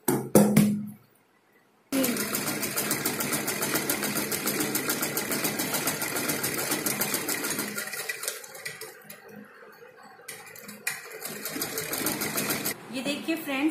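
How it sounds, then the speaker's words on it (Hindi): A sewing machine stitches the back neck of a designer blouse, running in a steady, loud mechanical whir for most of the stretch after a brief pause near the start, slowing and easing off toward the end. "अब इसी तरह हमें इस नीचे वाले हिस्से में भी ऐसे ही सिलाई लगानी है।"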